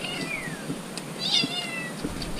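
A house cat gives a couple of thin, wavering meows at moderate distance at a home in Rajapur, Konkan, over a quiet background hiss.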